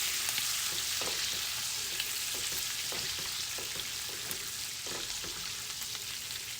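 Butter sizzles steadily in a pan over low heat while it melts for garlic butter pasta, with scattered sharp pops like popcorn breaking through a constant close frying hiss. No voices.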